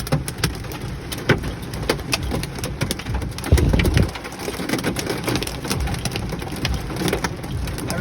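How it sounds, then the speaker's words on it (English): Hailstorm pelting a car while driving, a dense steady patter of hailstones with sharper random clacks on the body and a low road rumble beneath, no talk. "into a hailstorm."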